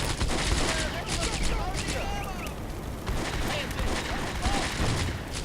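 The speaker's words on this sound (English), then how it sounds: "Oh, the mortar is dropping." Mortar rounds drop and burst in a Combat Mission: Beyond Overlord battle, with repeated sharp impacts mixed into rattling gunfire. The crackling salvos continue throughout at a moderate distance.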